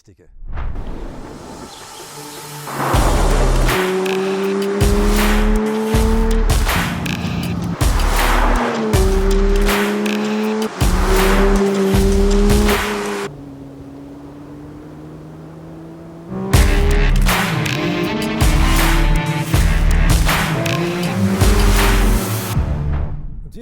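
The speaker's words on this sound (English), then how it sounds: "And here the new 911 GT3 with Touring Package, the athlete in pinstripes, so to speak." A Porsche 911 GT3 with Touring Package drives by with a loud engine that rises and falls in repeated surges, with gear changes and a brief quieter lull before revving again, close and dominant, with music or a voice partly layered over it.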